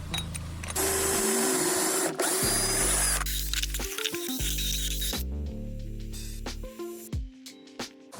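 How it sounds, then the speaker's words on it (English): A Kreg Jig 720 Pro pocket-hole jig drills into wood in a loud, steady burst of whirring for about two seconds, then stops, leaving shorter clunks and handling noises with a final brief whir. "I'm making the pocket holes with a Craig Jig 720 Pro"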